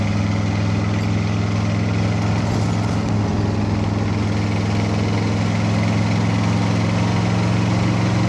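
A 1969 Chevrolet Corvette ZL1 runs steadily under load as it accelerates through the gears, a loud, constant low engine drone with no clear breaks between shifts.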